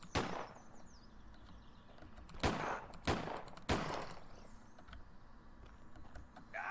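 Gunfire from shooting zombies in the Woodlands video game, a handful of sharp, loud shots scattered in an irregular rhythm over a low background hum.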